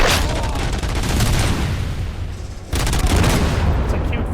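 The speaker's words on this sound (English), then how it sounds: "That's a cute fucking grenade you had there." A grenade blast in the Robocop Rogue City shooter game, with dense, sustained booming and rapid gunfire bursts filling the scene. A brief dip comes before a second loud burst of firing.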